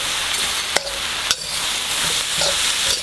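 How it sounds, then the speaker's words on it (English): Vegetables stir-fried in stir fry sauce over high heat give a loud, steady, close hiss of sizzling, broken twice by sharp utensil clacks against the pan. "Stir in the high heat."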